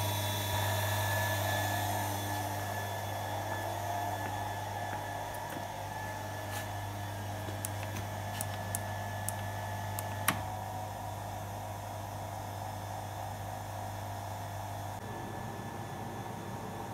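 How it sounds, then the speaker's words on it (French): A brewery glycol chiller unit hums steadily at a constant, moderate level throughout, with a few faint ticks over the top and the drone easing slightly near the end. "je vais démarrer le groupe froid pour que le fermenteur soit bien froid pour accueillir la bière"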